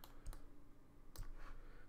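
Two soft, close computer mouse clicks, each a quick double tick, spaced about a second apart over a quiet room hum while working in CAD software.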